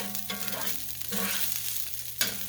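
Rice grains are stir-fried in oil in a pan on a medium stove, a steady sizzle with rhythmic scraping and tossing strokes, close and continuous with no talk.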